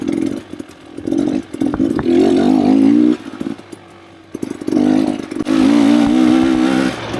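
A KTM or Beta dirt bike engine revs hard and climbs in pitch, drops off briefly, then screams up again, loud and close.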